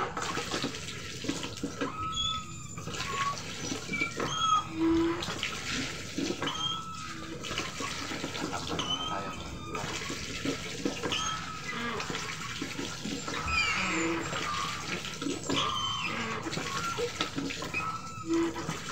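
Water runs steadily from a tap for rinsing laundry by hand, a continuous close splashing wash that lasts throughout, with faint sounds of movement in the background.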